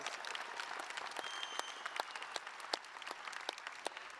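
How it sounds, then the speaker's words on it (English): Audience applause in Los Angeles for a union branch president, a steady wash of many hands clapping at moderate level, with scattered sharper individual claps standing out, sustained for about four seconds. "Give him a big round of applause."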